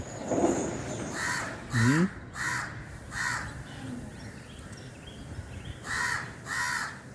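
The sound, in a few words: crow chicks cawing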